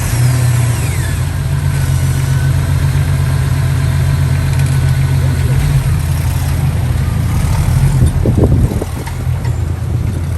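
Toyota Land Cruiser engine running loud and close, a steady low droning hum with a slight rise in revs near the end before settling, no talk over it.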